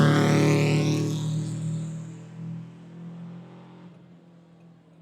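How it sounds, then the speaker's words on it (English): A rally car engine at a forest rally stage, loud and buzzing as it holds high revs before fading into the distance. "A little bit of rev limiter coming over there."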